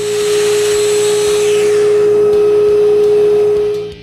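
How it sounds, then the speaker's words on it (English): A Domino joiner cuts 8mm mortises into the ends of wooden jig stops, giving a loud, steady motor whine with a constant tone that holds for about four seconds and then drops away at the end. "I make 2 8mm Domino mortises at each end of the stops"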